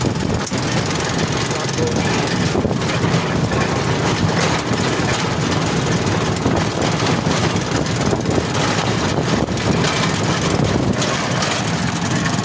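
Motorcycle engine droning steadily while riding along a rural provincial road, a continuous broadband rumble with wind, with voices talking over it throughout.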